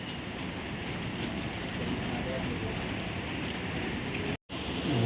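Steady rain falls at Guruvayur temple near its pond, a continuous even hiss of drops on surfaces that fills the whole span without a break.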